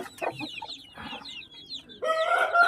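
A mother hen with two-month-old chicks clucks and calls in a farmyard, with soft scattered clucks and peeps followed by a louder burst of calling near the end, no talk.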